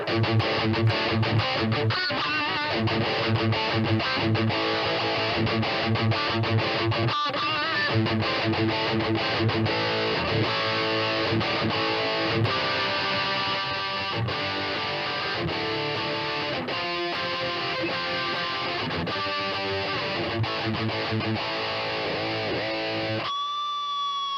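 Heavily distorted electric guitar through a Tech 21 NYC Trademark 10 amp on its British high-gain setting plays steady chugging riffs and chords, thick and saturated throughout, with no talking.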